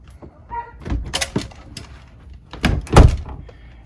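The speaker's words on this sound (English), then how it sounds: "By closing this bedroom door here" A bedroom door in an Alliance Avenue 30RLS RV is closed, with a couple of soft wooden thumps and knocks, then a firmer latching thud near the end, close by.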